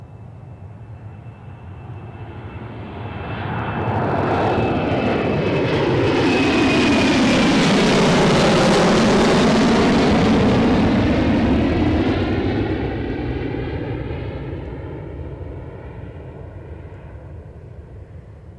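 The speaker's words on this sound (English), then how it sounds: "So this will be Jet2 off to Gran Canaria." A Jet2 airliner departs Newcastle Airport for Gran Canaria, its engine roar swelling from a distant rumble to a loud close pass, then slowly fading away over a steady background.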